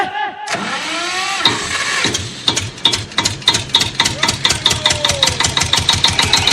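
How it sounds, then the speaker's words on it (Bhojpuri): A generator engine cranking and starting, a brief whirring turnover followed by a rapid, loud, regular chugging of the running engine close by. "अरे हाँ हो ए जनरेटर चालू कर रे।"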